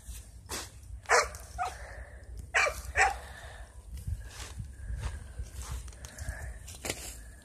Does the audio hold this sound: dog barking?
yes